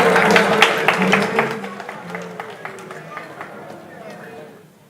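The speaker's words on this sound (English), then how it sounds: "I believe St. Augustine's deserves a round of applause" Quiz competition audience applauding St. Augustine's College at a grand finale, dense clapping that starts strong and thins out over several seconds, with voices murmuring underneath and the clapping tailing off at the end.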